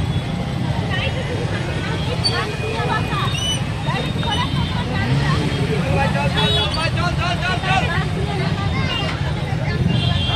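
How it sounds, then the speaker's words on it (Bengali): A dense crowd at a Chhath puja festival gathering fills the air with a steady babble of many voices, mixed with nearby traffic and vehicle noise. "দেখুন লোকের ভিড় কত"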